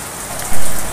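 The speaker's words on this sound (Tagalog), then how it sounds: "So, salamat sa rain." Heavy rain pours steadily onto a front-yard garden, a dense, loud hiss of drops on leaves and ground, swelling briefly in intensity, with no voices.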